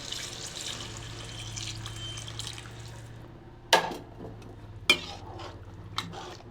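Hot water pours steadily into a pot of rice for chicken biryani for a few seconds, followed by a few sharp metallic clinks of a utensil against the pot.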